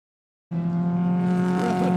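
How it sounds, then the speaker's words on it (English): After a moment of silence, a V8 historic race car engine roars in suddenly and holds a loud, steady high-revving drone with a deep tonal hum. "Just listen to the full revs of that big American lusty V8."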